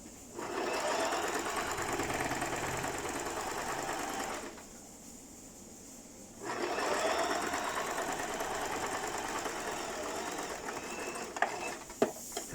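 A sewing machine stitches the centre seam of a knife-pleat skirt mock-up, running steadily for about four seconds, pausing briefly, then resuming a long continuous burst with a few sharp clicks near the end.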